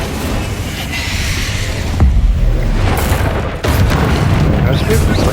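Spell blasts boom in the game Hogwarts Legacy during a fight with spiders, heavy low rumbling bursts that hit hard around two and three and a half seconds amid constant battle noise, with a voice calling out in the background.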